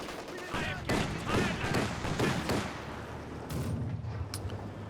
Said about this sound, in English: Nice machine gun position though, gets a lot of suppression down.